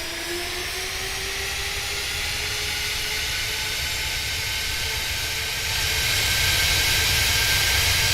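Boeing 747 jet engines in Microsoft Flight Simulator 2020 spooling up for takeoff: a steady roar with whining tones rising in pitch, growing louder toward the end.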